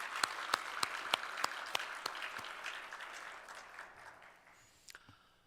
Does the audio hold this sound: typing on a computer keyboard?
no